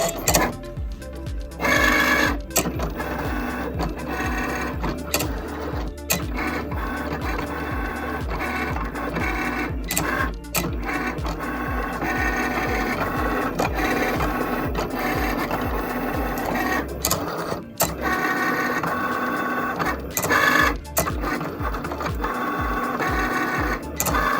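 A Cricut Explore Air 2 cutting machine works through a cut with continuous whirring motor drive and carriage movement, punctuated by repeated sharp clicks and shuffles, close by.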